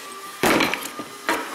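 Rivets being tapped out of a Chevy Tahoe rear door with a hammer, two sharp metallic knocks close by, the first followed by a brief rattle, alone with no talk.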